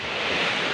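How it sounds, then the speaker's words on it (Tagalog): Ocean surf at Sigaboy beach in Davao Oriental, a steady broadband wash of breaking waves with some wind, continuous and fairly close, with no voices. "Kaya yan po yung mga alon."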